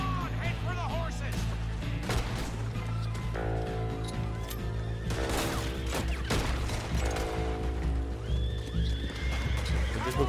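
Horses in Red Dead Redemption 2 whinny and neigh repeatedly over steady hoof clip-clops, loud and close, with background game ambience and bursts of gunfire.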